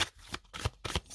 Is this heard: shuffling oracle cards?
yes